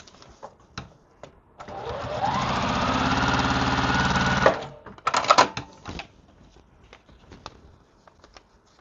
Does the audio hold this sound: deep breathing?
no